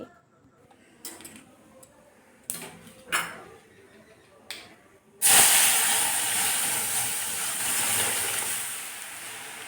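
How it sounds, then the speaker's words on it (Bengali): Mustard seeds and dried red chilli tempering in hot oil for a vegetarian dal: a few sharp, scattered pops, then a sudden loud, sustained sizzle. "সর্ষে দেওয়ার পরেই কিন্তু তেলে সর্ষেগুলো ফুটতে শুরু করবে চারদিকে"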